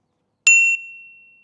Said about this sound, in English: And we've got a bell.